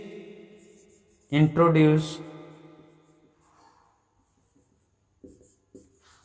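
An eraser rubs across a classroom writing board in one short, squeaky scrubbing burst, loud and close, then quiet returns with a couple of faint taps.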